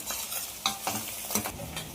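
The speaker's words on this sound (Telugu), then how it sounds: "అల్లం వెల్లుల్లి పేస్ట్ కూడా వేసుకొని బాగా ఫ్రై చేసుకోవాలి" Onions, green chilies and ginger garlic paste frying in a pan while being stirred: a steady close sizzle broken by several sharp scraping strokes of a spoon, with no talking.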